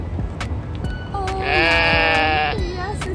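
A sheep bleats once, a clear, wavering call of about a second that stands out loud and close over a busy background, with people talking before and after it.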